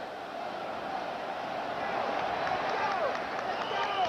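A home crowd at a 1992 Auburn vs LSU college football game roars steadily from a distance, a sustained stadium cheer with faint clapping and whistles under it.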